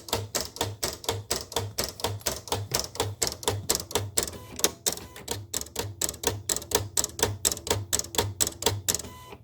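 A desktop cutting machine slicing a printed sheet of logos: a steady mechanical chatter of rapid, evenly spaced clicks and whirring steps with a low motor pulse, close and continuous throughout.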